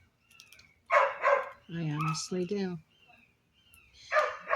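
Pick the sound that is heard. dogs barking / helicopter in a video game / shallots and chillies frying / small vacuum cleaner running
dogs barking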